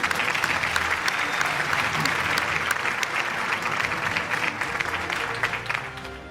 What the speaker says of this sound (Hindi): भरपूर तालियां होनी चाहिए खातिन हज़रात।